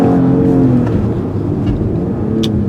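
A 2015 Acura TLX sedan accelerates hard from a standstill toward 60 mph, its engine loud and close, revving up as the automatic shifts itself right at redline, then pulling on through the next gear.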